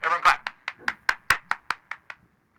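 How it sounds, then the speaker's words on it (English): A few people clapping in a short burst of about a dozen separate, fairly sharp claps at a steady rhythm, close and moderately loud, fading out toward the end. "Everyone clap."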